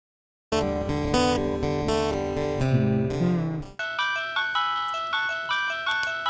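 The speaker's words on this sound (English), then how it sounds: "This ringtone's gonna be stuck in my head now." An electronic phone ringtone plays loud and alone, a bright chiming melody of repeating notes that switches to a sparser, plinking pattern midway.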